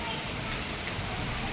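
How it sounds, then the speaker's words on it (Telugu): Heavy rain falls as a steady, even hiss of dense droplets, fairly soft and continuous with no break. "చూడండి వాన ఎంత పడుతుందో"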